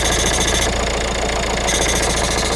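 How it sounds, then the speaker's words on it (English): A 1.5 Vauxhall Combo van engine with a turbo position fault and no power idles steadily and close by, with an even, continuous rumble and no other sounds. "with the engine running"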